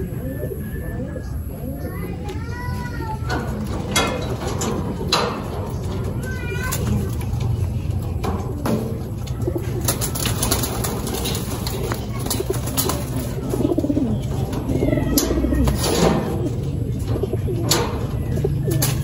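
Domestic pigeons in a nearby training loft coo repeatedly in soft, rolling low calls, with occasional chirps and light wing sounds, while people talk in the background.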